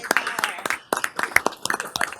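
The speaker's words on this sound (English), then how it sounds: "I think he deserves a clap" A few people in a board meeting room clap for a colleague's birthday: sparse, uneven individual claps, close and fairly loud, lasting about two seconds.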